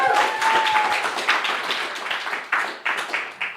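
Audience applause after a quiz answer, scattered individual claps rising out of a brief tone and light murmur, moderately close and uneven, building into irregular bursts of clapping.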